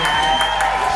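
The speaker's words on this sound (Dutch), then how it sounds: "Dus even applaus." Brief crowd applause and cheering at a women's football club event for Excelsior Barendrecht, a dense wash of clapping mixed with voices, steady and fairly loud throughout.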